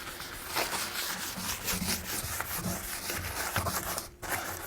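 A rag wipes grease off the painted surface of a Yoder smoker with solvent, a continuous close rubbing and scuffing with soft irregular strokes and a brief pause near the end.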